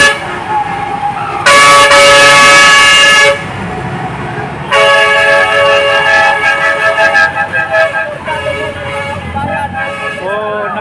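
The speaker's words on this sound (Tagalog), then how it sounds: "Nakikisimpatya rin yung mga tsuper na dumadaan dito sa pamamagitan ng kanilang pagbusina" Car horns from passing drivers blare in loud, sustained blasts on a busy road, one long honk followed by another stretch of repeated tooting, mixed with traffic and voices talking.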